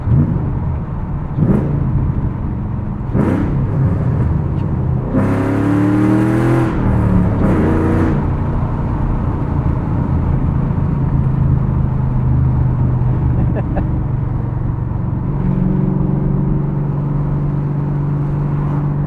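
A 2007 Ford Mustang Shelby GT with a 5-speed manual pulling through its gears, a loud close engine drone rising in pitch between brief shift gaps, with throttle blips and a heavy continuous rumble from inside the car.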